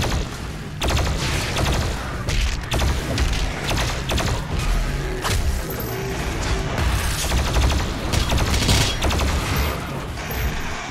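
Rapid plasma rifle fire in DOOM Eternal, a dense stream of crackling energy bursts repeating steadily over game effects and mechanical clatter, loud and continuous throughout.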